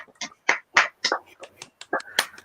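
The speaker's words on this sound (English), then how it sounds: "We might need to raise a dram and clap for all the key workers, all the NHS workers" Irregular, close claps ring out at home in thanks to key workers and NHS workers, mixed with voices talking and cheering.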